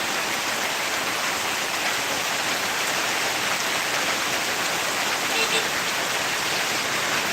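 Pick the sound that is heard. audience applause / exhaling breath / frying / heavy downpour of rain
heavy downpour of rain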